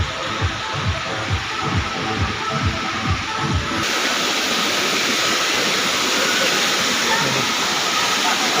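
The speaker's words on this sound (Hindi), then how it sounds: "वाटरफॉल का पार्क है दोस्तों, बहुत वीआईपी जगह है।" Steady broadband rush of a waterfall at a park with a swimming pool, loud and continuous, filling the second half after a stretch of rhythmic thumping sounds and some voices at the start.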